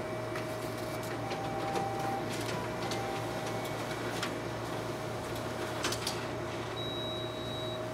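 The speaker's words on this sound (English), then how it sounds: "as you can see, the document feeder is working properly." Canon imageRunner Advance C5035 copier with its document feeder running, a steady mechanical whirr and hum close by, with faint ticks and brief rattling clicks as pages pass through.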